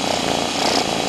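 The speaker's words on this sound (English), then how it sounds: "You can hear her purring. Listen." A cat purring up close, a continuous steady rumbling drone filling the moment without any talk.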